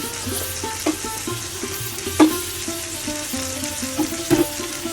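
Pumpkin pieces fry in a frying pan with a continuous loud sizzle, broken by repeated clicks and scrapes of stirring at an uneven rhythm, with no voices.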